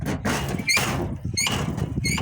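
The hinged lid of a homemade steel trailer, hung on welded 20 mm door hinges, swings open with a series of sharp, close metallic squeaks in a quick repeating rhythm.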